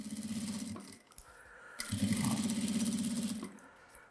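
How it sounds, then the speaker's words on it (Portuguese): Sewing machine stitching strips of patchwork fabric together, a rapid steady whirring hum in two runs separated by a brief pause, close and moderately loud. "vou costurar com a largura do pé de máquina"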